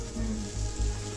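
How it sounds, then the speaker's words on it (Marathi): Fish frying in a pan makes a quiet, even sizzle over a low background hum, brief and without talk. "हे बघा मस्तपैकी फिश फ्राय चालला इथे."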